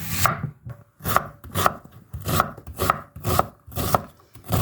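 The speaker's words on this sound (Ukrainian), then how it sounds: "Поки будуть кипіти макарони, я наріжу цибулю, підготую для засмажки." Knife chopping onion on a cutting board in a home kitchen while pasta boils, a steady series of about eight crisp, close chops spaced roughly half a second apart, with no talk.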